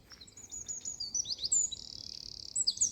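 Birds sing in woodland clearings along a footpath, with a busy mix of high chirps, whistles and a rapid trill, close and clear over quiet background rustle and no talk.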